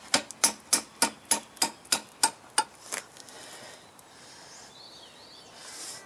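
A rubber hammer taps on rear drum brake parts of a Kawasaki ER-500 motorbike, about nine sharp, evenly spaced knocks close by, then quiet background.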